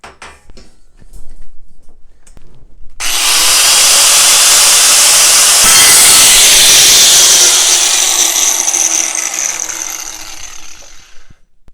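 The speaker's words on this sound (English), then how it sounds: "I must say that a right angle grinder is probably one of the one of the must-haves for any shop" A right angle grinder cuts steel C-channel with a loud, sustained high-pitched whine and grinding roar lasting several seconds, then winds down, preceded by a few clanks of handling.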